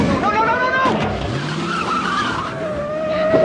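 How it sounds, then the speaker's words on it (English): A car reversing fast over a two-foot concrete abutment, with loud close tire squeals and skidding that rise and fall over a few seconds, mixed with revving engine noise. "You just backed over a 2-foot concrete abutment."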